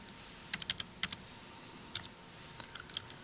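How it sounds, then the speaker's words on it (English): Numbers being typed into a calculator: roughly eight faint, quick key clicks, some in short bursts and others spaced apart, against a quiet room tone. "everything else we're going to type into our calculator"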